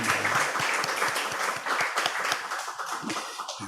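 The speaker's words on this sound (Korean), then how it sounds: "우리 박수로 우리 감사하고 환영하겠습니다" A Korean church congregation at a Gwangju worship service breaks into dense, steady applause in a welcome, many hands clapping together at close range for several seconds.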